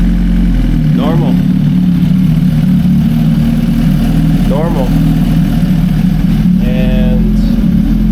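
A motorcycle engine running on ETS racing fuel settles into a steady low idle throughout, with a continuous deep rumble; people talk briefly over it.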